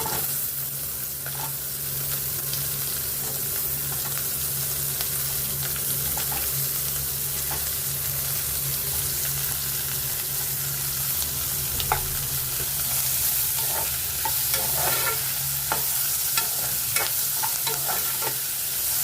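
Chopped onions fry and get stirred in a pan for a potato, green pea and capsicum dish, giving a steady close sizzle with scraping stirs and small crackles throughout, no talking.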